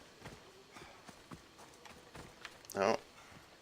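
Horse hooves clip-clop in the video game Assassin's Creed Odyssey, faint, sparse hoofbeats with a louder burst near the end, under a quiet game backdrop.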